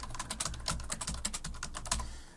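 Rapid, steady typing on a computer keyboard, with dense clicking keystrokes close to the listener that taper off at the end, no voices.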